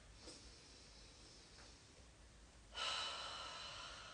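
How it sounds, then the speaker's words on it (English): Close, soft breaths during a slow morning movement practice: a faint inhale early on, then a louder, hissing exhale rushing out and trailing off near the end. "And a few deeper breaths for me."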